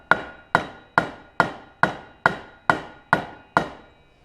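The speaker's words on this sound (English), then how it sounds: "Rubber hammer here, guys." Nine steady, evenly timed raps of a rubber hammer on the drive pulley of a Snapper rear-engine riding mower with a Briggs Intek engine, each a sharp close knock with a short metallic ring, no voices.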